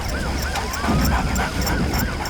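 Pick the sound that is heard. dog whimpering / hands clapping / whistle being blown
dog whimpering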